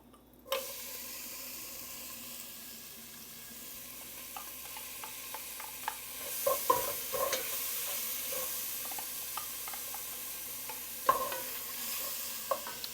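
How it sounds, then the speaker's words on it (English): Onions and celery sautéing for jambalaya, a steady soft sizzle in the pan with scattered scraping stirs and utensil taps that grow busier partway through, close and moderately quiet. "Now I'm going to saute my seasoning, starting with my onions and celery"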